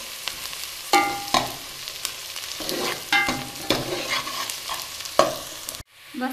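Onion and garlic fry for a curry in a pan, giving a steady close sizzle broken by repeated scraping strokes of a spoon stirring through the mix. It cuts off sharply near the end.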